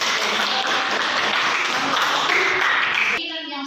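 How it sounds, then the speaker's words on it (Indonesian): Applause from a classroom or teacher-training group, a dense continuous patter of many hands clapping for a few seconds before it breaks off into other sound. "Oke, beri aplaus untuk"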